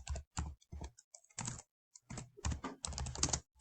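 Bursts of quick key clicks come from a computer keyboard while typing text into a document, in several close, distinct clusters separated by short pauses, with no speech.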